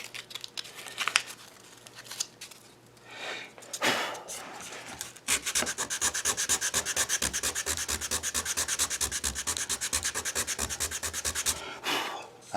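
Sandpaper rubbing against small cherry wood plates, a few scattered strokes at first, then a long run of fast, steady back-and-forth scratching, close and fairly loud.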